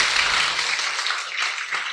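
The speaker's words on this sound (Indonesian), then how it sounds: "Tepuk tangan untuk Tasya." Audience applause at an Islamic religious gathering, a brief steady wash of clapping filling the whole moment, fairly loud and with no talk over it.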